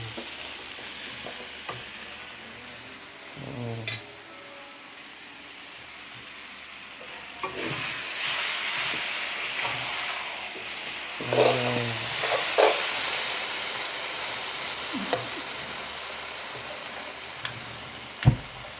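Noodles with red sauce are stir-fried in a hot pan with a steady loud sizzle and hiss, broken by occasional scraping and stirring clatters, with no talk.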